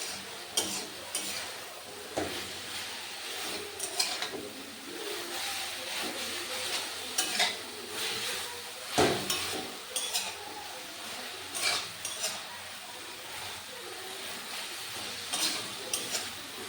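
Bottle gourd stalks stir-fried in a pan, with a steady background sizzle under repeated scraping and clinking strokes of a utensil against the metal, close and moderately loud, without speech.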